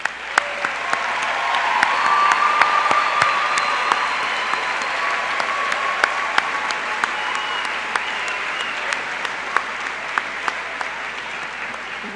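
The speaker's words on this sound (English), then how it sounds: "Will all the students who are graduating with honors of any kind please stand to receive our well-deserved applause?" A large crowd applauds steadily at a university graduation ceremony, the clapping loud and sustained throughout, with scattered louder individual claps and faint whoops standing out from the mass.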